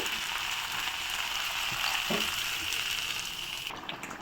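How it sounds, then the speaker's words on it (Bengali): Water poured into a hot pan of cooking peas gives a steady, soft, hissing sizzle that runs evenly throughout and eases slightly toward the end. "এখন পরিমাণ মতো জল দিয়ে দেবো"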